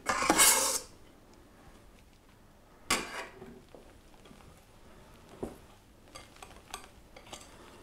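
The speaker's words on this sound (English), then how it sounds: "by using the whisk it actually does get more air into the mixture" A whisk works a chocolate mousse mixture in a bowl, starting with a loud metallic clatter and then settling into scattered knocks and soft scraping against the bowl, with no talking.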